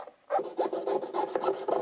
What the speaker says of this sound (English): you can see the saw running through the wood